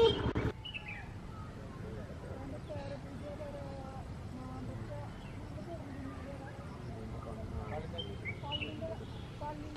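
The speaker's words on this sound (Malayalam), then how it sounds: "കിളികളൊക്കെ കൂടണയാനായി," Birds chirp and call intermittently at sunset near a rock hilltop in Vaniyambalam, Shoranur, in a quiet open setting, with someone speaking throughout.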